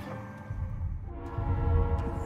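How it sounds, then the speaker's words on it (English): Train arriving in a hack and slash video game, a low rumbling roll with sustained tonal humming and a couple of faint sharp clicks, growing slightly louder toward the end. "The train eventually showed up."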